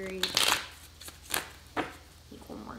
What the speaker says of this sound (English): One more shuffle and we'll be ready to go.